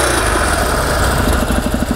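A Harley-Davidson Sportster XR1200 motorcycle engine runs close by, a loud, steady, rumbling idle with a continuous throaty drone and faint rhythmic pulsing.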